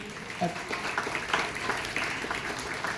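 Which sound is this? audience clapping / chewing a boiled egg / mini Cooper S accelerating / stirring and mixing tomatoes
audience clapping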